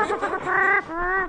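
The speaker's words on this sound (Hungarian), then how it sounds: "Egy kakas megtámadta Gábort" A rooster gives a few loud, close, tonal clucking calls, rising and then holding steady, with no talking around it.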